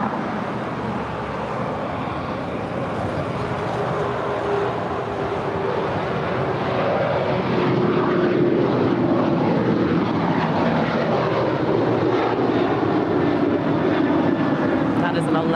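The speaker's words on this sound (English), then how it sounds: "we do have Alaska Airlines Flight 282 heading to Liberia. It's a 737-800 departing at 25 right." An Alaska Airlines Boeing 737-800 departs runway 25 right at LAX, a sustained loud jet roar that grows stronger partway through, with a faint droning tone and chatter in the background.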